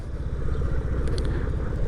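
A SYM Jet 14 200i scooter idles nearby, its engine giving a steady low throbbing hum with light mechanical clatter and no voices.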